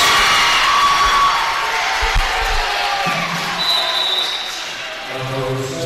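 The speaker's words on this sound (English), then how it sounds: "definitely quite the lively crowd here this evening" A lively crowd cheers and shouts at a high school varsity volleyball game in a gym, with loud, sustained noise that fades slightly toward the end, under a commentator talking.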